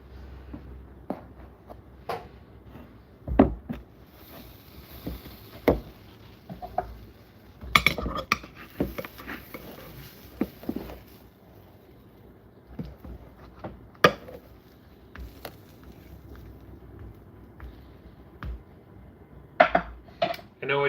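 A pan and metal utensils handled while cooking, with sporadic clinks, taps and scrapes at close range across the stretch and a few louder knocks, plus occasional faint talk.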